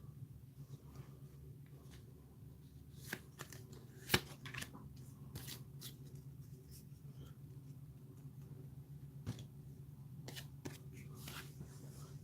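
Cards from the House of Danger adventure game shuffled and flipped through: faint, scattered papery flicks and snaps over a quiet room hum, irregular and close, with no talk.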